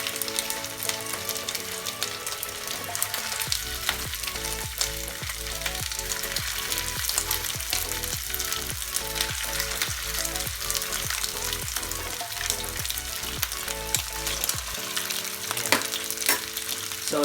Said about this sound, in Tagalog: Mainit na yung mantika natin, so pwede na natin ilagay yung mga meatballs